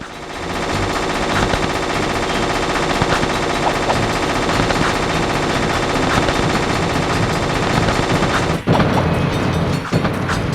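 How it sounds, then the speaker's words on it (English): A turret in the Jak 2 video game fires in a relentless, very fast stream of shots, loud and continuous for about ten seconds with brief heavy impacts near the end. "that's the fastest I've ever seen the turret go"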